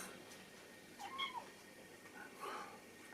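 A domestic cat meows indoors, a couple of faint, short, rising-falling calls against a quiet room background.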